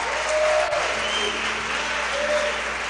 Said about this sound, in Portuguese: Então um aplauso igual crente.